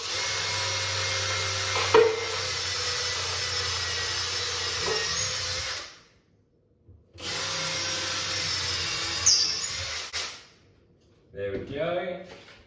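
Electric drill boring handle holes through a kitchen cupboard door beside a range hood, running in two steady whining bursts of several seconds each with a brief pause between, then a short final noise.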